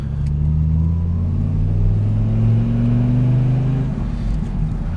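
A Dodge Ram SRT-10 pickup with a big V10 engine and six-speed manual gearbox drives along, its deep, steady engine rumble rising in pitch as it pulls through the gears, loud and close.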